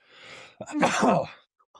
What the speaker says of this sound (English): Oh yeah, sneeze.